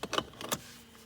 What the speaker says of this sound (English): Pull the key out.